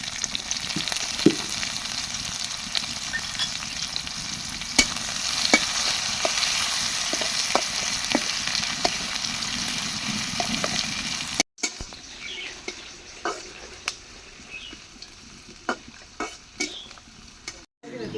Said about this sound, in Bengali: তো লাল লাল ভাবে পেঁয়াজটা ভাজা হয়ে গেছে